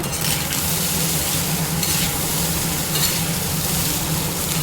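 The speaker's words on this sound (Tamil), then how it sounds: "அடுப்பை ஸ்லோவிலே வச்சுட்டு கிளறுங்க." Rice fried with capsicum, egg and carrot sizzles continuously in a pan on low heat while being stirred, giving a steady, close crackling hiss with faint scraping throughout.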